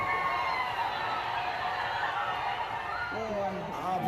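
A crowd of about 10,000 spectators at Kohli Ground for a cricket semi-final in Muzaffarpur makes a steady, distant roar of chatter and cheering, with a voice rising near the end.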